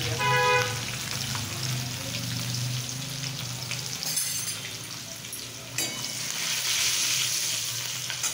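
Cumin, garlic, chili and asafoetida sizzle in hot oil for a fenugreek and toor dal dish, a steady close frying hiss with brief clinks and a horn toot in the background.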